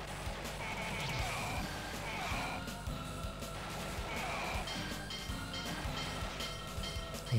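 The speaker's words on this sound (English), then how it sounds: "Another train, I think." Rumbling train passing in the Metal Slug 2 arcade game, a dense rolling clatter mixed with game effects and music that stays loud and continuous throughout.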